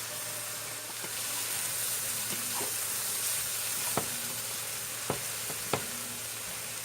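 Oregano, cumin, turmeric and poultry seasoning stirred in a frying pan over a constant hiss of sizzling, with several sharp spoon clicks against the pan near the end and no talking.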